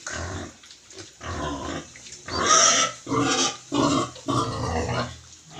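A native sow waiting to farrow grunts and squeals in agitation, a close run of rough, uneven bursts with short gaps between them.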